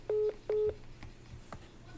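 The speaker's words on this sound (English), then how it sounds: "Did he just hang up on me? It sure sounds like it." Two telephone dialing tones, each lasting about a quarter second, followed by soft clicks and faint handling noise on a call-in radio show line.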